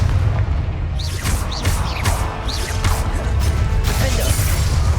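A Confringo fire spell in Hogwarts Legacy bursts with several sharp booms and whooshing impacts in quick succession, loud and close against a dense game soundscape.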